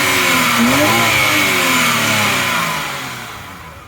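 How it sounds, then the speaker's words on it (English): A BMW E90 325i engine revs up loudly and holds a high whine, then slowly winds down, close by with no talking. "Let me rev it up for you lot so you can hear it."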